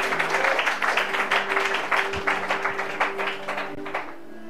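A church congregation claps together during a French-language Bible teaching, a dense, steady patter of hands held at even loudness from start to finish, with no voices rising above it.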